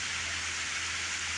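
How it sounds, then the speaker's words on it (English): Steady rain falls on a rainy morning under a big tree, a close, even hiss of drops with no voices. "See, it's raining, folks."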